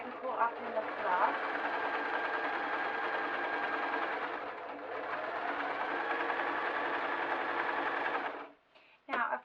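A sewing machine runs steadily, stitching a folded hem on fabric for a saddle bum warmer, a continuous close whirring for about eight seconds before stopping, followed by a few brief handling noises.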